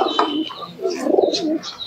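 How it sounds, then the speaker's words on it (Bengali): Caged pigeons at a pigeon market in Santipur give soft, close, throaty coos, several overlapping calls in under two seconds. "খুবই সুন্দর সুন্দর কোয়ালিটির কবুতর আছে"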